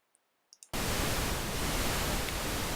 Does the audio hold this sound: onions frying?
no